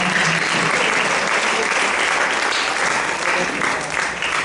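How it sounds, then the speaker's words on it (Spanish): A church congregation applauds in a dense, sustained wash of clapping throughout, loud and even, with faint voices mixed in. "Y arriba, aplausos de su Señor"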